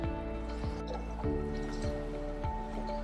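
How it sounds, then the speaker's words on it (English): Hot water poured into rock wool cubes for starting basil seeds, a close gurgling trickle with a few distinct drips and splashes over a steady low hum, no talk. "get a little bit of hot water and fill in the rock wool with hot water"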